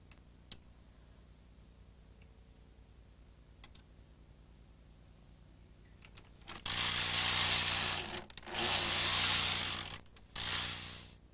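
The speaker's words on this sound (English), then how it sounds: "With the key plate back in the carriage, take up the slack and knit the row." A 1988 Bond Elite knitting machine carriage is pushed across a row with a loud, close mechanical rattle. It comes in several bursts separated by short pauses, after a stretch of faint ticking and clicks.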